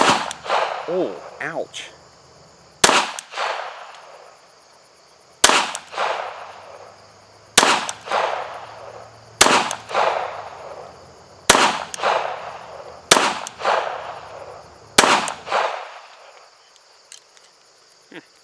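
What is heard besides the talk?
pistol shots fired at a target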